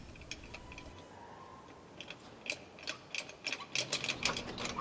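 A car jack raises a vehicle for a tire change, making a faint mechanical whir followed by a quickening series of close ratcheting clicks that grow louder toward the end.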